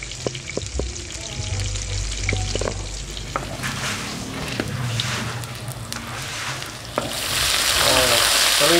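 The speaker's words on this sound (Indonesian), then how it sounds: "Menggoreng tempe ya pemirsa." Tempeh fries in hot oil in a pan with a continuous close sizzle and crackle, punctuated by occasional clinks of stirring, the frying growing louder and more intense toward the end.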